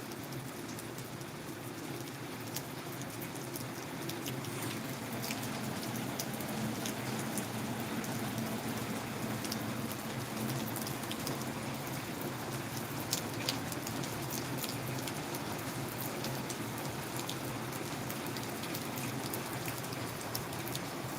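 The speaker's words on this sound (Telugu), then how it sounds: "మన గ్రామంలో కురుస్తున్న వర్షాన్ని అయితే మీకు చూపించే ప్రయత్నం చేస్తున్నాం" Steady rain falls over a village, a dense, unbroken patter of drops on surfaces that holds an even level throughout, with no voices.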